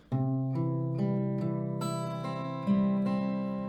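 Acoustic guitar picks out the C part of a song, sounding a sequence of clear, ringing plucked notes over a held chord, close and moderately quiet, with no voices.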